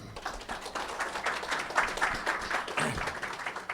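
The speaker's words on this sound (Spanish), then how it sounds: "Muchas gracias por los aplausos" Audience applause welcoming an engineer to an informative talk on industrial ammonia refrigeration, a fairly quiet, even spread of clapping from the room lasting a few seconds.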